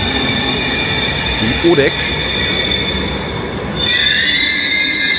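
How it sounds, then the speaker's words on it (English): A regional train arrives at Berlin Central Station, its wheels squealing in a high, sustained screech over a steady rumble that grows louder toward the end, with a brief spoken remark partway through. "Finally, the train is here."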